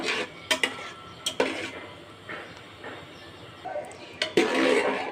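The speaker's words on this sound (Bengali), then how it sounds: "এতে দিয়ে দেবো ধনেপাতা কুচি, এটা একটু নেড়ে নেব।" Masoor dal with chopped coriander being stirred in a metal pot, with sharp scraping clanks of a spoon against the sides at irregular intervals between quieter moments.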